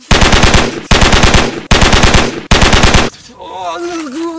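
Gunshots fired in a film scene, four long, loud bursts of rapid automatic fire with brief gaps between them, followed by a shouting voice.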